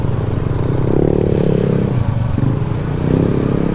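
A low, rumbling mix of idling motorcycle engines and clatter fills the scene continuously, as if many bikes are gathered nearby.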